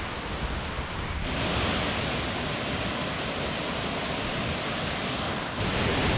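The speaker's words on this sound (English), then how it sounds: "the waterfall's right there" A waterfall in the Atherton Tablelands rushes continuously, a broad, steady roar of falling water heard close and loud with no voices over it.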